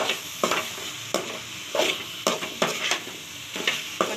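Chicken pieces sautéing in a pan for a Tamil-style chicken gravy, with steady frying sizzle and repeated stirring scrapes every second or so, close and moderately loud, no talking.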